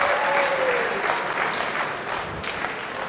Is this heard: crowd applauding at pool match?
yes